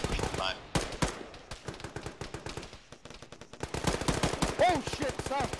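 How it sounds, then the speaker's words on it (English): Rapid gunfire in a military video game, dense volleys of close automatic and single shots cracking almost continuously, with a short lull before the firing intensifies again. "it's basically under fire this whole time."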